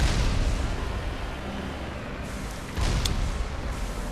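Big guns pounding in Mass Effect, a dense roaring rumble of heavy fire and blasts that swells again partway through, loud and continuous with no pause and no voices.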